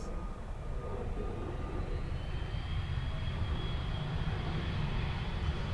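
A jet airliner lands at Dublin Airport on a murky day, nose held high for aerodynamic braking, making a loud, continuous engine roar and rushing drone throughout, with no talking.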